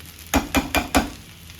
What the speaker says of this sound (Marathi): आता एकदा आणखीन हलवून घ्यायची.